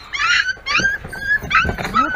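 Puppies whimper and whine up close in a string of short, high, wavering cries, several in quick succession with brief gaps between them.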